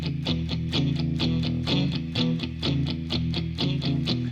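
Electric guitar with distortion playing a blues rhythm in E in straight eighths, root and fifth, Texas shuffle style: a steady, even chugging pattern of repeated chords, loud and close, alone without any talking.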